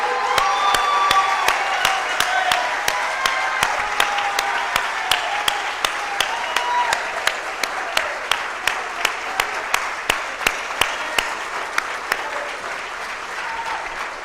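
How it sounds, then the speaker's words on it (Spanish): A crowd at a Movimiento Semilla party gathering gives a long, sustained ovation, dense clapping with some cheering, while a regular sharp tapping repeats steadily through the applause. "Les pido no un aplauso, una ovación para Samuel Pérez."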